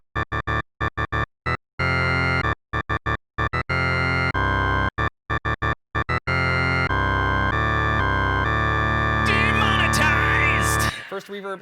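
A metal guitar sample drawn from a Super Nintendo sample library inside a software plugin plays as a string of chopped, distorted chords with abrupt cut-offs and staccato gaps, then holds longer sustained notes before a noisy tail, loud and close.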